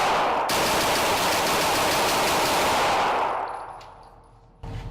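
Rapid continuous rifle fire through a Stern Defense magazine, a dense sustained volley of shots that tapers off into quiet, followed by a final sharp report.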